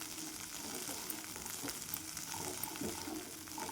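Peas with a little garlic sauté and roast in a pan, giving a steady, dense frying sizzle throughout with occasional soft stirring scrapes underneath.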